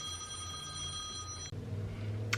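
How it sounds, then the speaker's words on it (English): A telephone rings with a bright, steady electronic tone, faint and somewhat distant, then cuts off abruptly partway through, leaving low room noise. "apologies, the phone rang"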